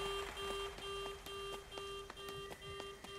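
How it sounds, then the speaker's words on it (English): Car alarm going off in the video game Vampire The Masquerade Bloodhunt, a steady electronic tone with regular repeating beeps pulsing about three times a second, held at a moderate level throughout. "In order not to trigger car alarms, maybe do not climb on cars, kids."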